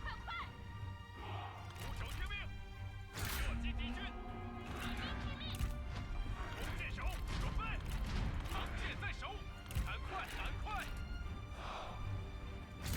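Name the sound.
troops shooting volleys in video game Total War Three Kingdoms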